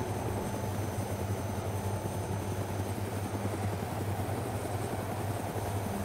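Steady whirring and thumping of helicopter rotors with a constant engine drone in the video game DayZ, loud and continuous throughout.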